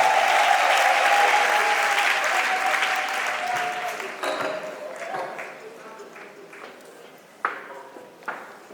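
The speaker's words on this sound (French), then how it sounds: "Sous vos applaudissements et vos encouragements." Loud, sustained applause from an audience at an International African Women's Day event, slowly thinning out, leaving a few scattered claps and taps near the end.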